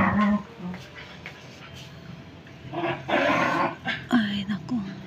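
A bulldog whimpers and yips in short, high whines, close by, mixed with people speaking.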